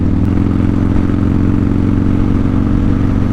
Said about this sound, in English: I like it when I get by a guardrail because I can hear the crack of the throttle